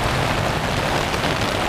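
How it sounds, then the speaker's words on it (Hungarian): Steady rain falls during a bike trip in Croatia, a dense continuous hiss of drops pattering on surfaces, loud and close with no break and no voices. "Nem tudom, hallatszik-e, mennyire esik az eső."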